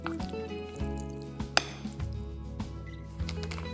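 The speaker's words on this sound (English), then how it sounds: "Toss everything together in the bowl and give it a good mix." Tortilla filling is tossed and mixed in a bowl, giving irregular soft squishes and clinks close up over a low musical bed.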